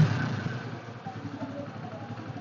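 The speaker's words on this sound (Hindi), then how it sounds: "बाइक स्टार्ट हो चुकी है, आप सुन सकते हैं काफी स्मूथ काफी रिफाइंड साउंड आ रहा है" A 2024 TVS Sport motorcycle engine idles steadily and smoothly at close range, a low continuous rumble with no revving.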